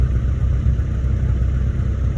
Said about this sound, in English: I just turned it on, it's idling